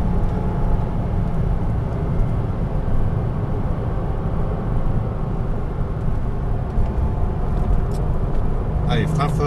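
A Porsche Cayman S engine drones steadily as the car accelerates on a driving track, a loud, continuous low rumble from inside the cabin that holds for the whole stretch.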